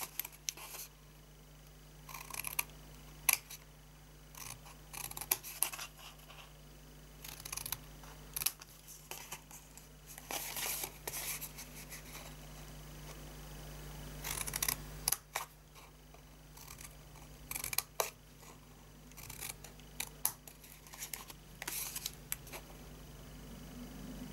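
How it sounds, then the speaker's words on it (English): Scissors snip wedges out of the corners of a handmade paper gift box, giving quiet, irregular clusters of short crisp cuts with pauses between them and no talking. "We are just going to cut into our corners like this, snipping a little wedge out of each side."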